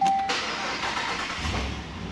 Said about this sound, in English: Now let us starting the engine.